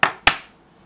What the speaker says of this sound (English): I just kind of cut off the skins like that around the edges.